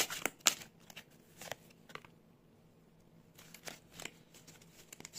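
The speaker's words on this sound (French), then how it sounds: "Donc, je vais tirer 3 cartes." Tarot cards are drawn from a deck in a few quick, close bursts of card flicking and shuffling, separated by quiet gaps.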